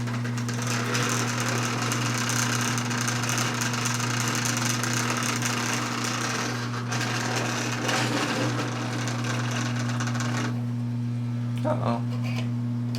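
Lionel postwar 50 gang car, a small motorized toy railway vehicle, running on toy train track with a steady continuous motor whine and hum throughout, ending abruptly near the end.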